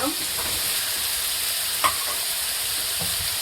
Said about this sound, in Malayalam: ഉപ്പിട്ട് കൊടുത്ത് ഒന്ന് ഇളക്കി കൊടുക്കുക.